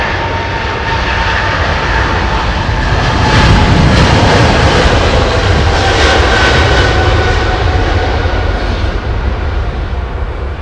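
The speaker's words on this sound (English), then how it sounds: "Takeoff thrust set." A heavy airliner's jet engines spool up to takeoff thrust in a loud, continuous roar that swells and holds, heard close and steady with no talking.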